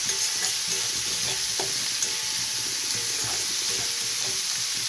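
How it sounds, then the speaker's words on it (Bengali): Masala with chili powder and coriander powder sautéing in a pan, a continuous bright sizzle with soft scraping stirs throughout, close and fairly loud, with no talking. "মশলাটা এখানে কষা হচ্ছে"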